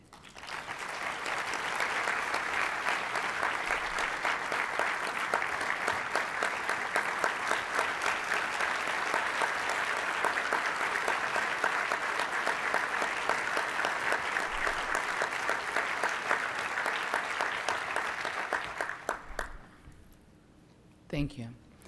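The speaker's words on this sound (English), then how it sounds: "Mayors, please join me in giving Flint Mayor Karen Weaver a round of applause" Sustained applause from a hall of mayors for Flint Mayor Karen Weaver at an opening plenary session, steady dense clapping for about nineteen seconds before dying away, followed by a brief spoken word.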